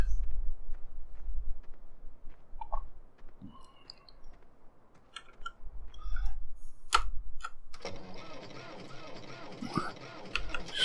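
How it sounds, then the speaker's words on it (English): A clockwork toy tractor is wound up in a field and then ticks with steady mechanical clicking and gear whirring, close and fairly loud, ending in a denser burst of clicks. "Wind it up. I think this is clockwork,"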